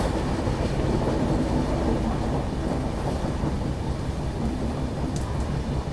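The Amritsar Jaynagar Humsafar train runs near Sonipat with a steady, loud rumble of wheels and carriages and no break in the noise.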